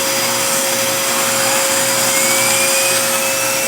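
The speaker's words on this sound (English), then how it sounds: "Look, she's really getting vacuumed." A vacuum cleaner runs steadily and loudly right up close as it is passed over an eleven-year-old dog's coat, a constant whirring drone with a high whine and no pauses.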